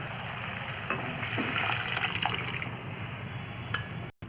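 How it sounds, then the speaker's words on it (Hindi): Boiled dal for Rajasthani dal bati is poured into a pan of fried spices and softened tomatoes, giving a steady wet pouring and splashing. A soft sizzle of the hot pan sits underneath. "अब इसमें डाल देंगे हम बॉईल की हुई दाल।"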